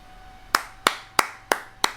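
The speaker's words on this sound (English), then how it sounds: "You get claps from me." Five sharp hand claps ring out alone at a slow, even pace, each a crisp, close smack with a short fading tail.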